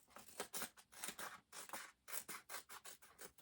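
Scissors snip through a folded paper envelope in quick repeated cuts, crisp close snipping and rustling paper in an uneven rhythm, quiet and without talk.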